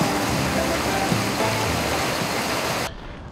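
Johnson River flowing near its waterfall gives a steady, broadband rushing wash at close range, holding even for about three seconds before cutting off abruptly.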